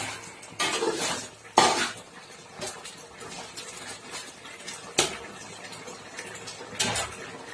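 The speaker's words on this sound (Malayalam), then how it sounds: "നമുക്ക് ഇളക്കി കൊടുക്കാം" A spoon scrapes and clinks against a pot of fish curry in irregular strokes, with occasional sharper knocks, fairly quiet and close.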